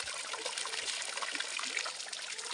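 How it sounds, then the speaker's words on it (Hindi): Water flows by gravity from an opened pipe into a tank in a hillside village in Uttarakhand, a steady, close trickling splash at low, even volume with no voices. "ग्रेविटी के हिसाब से यहाँ से पाइप खोल दूंगा और इसको डाल दूंगा सीधे टैंक में।"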